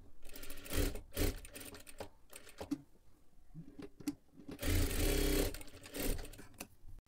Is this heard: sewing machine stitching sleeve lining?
yes